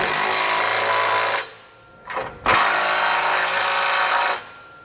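A power tool, likely an impact wrench driving a 3/4 inch (19mm) socket, tightens bolts on a Curt front-mount trailer hitch receiver on a 2003 Winnebago, running loud in long close bursts with short pauses between.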